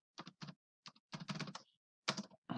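Typing on a computer keyboard, with short bursts of close key clicks separated by brief pauses, fairly quiet and with no voices.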